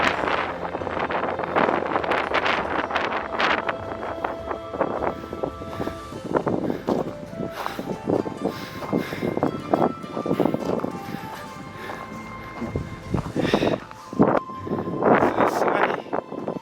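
Strong gusting wind buffets the microphone on a stormy day at Azuma-kofuji as a typhoon approaches, a loud continuous roar rising and falling in irregular surges.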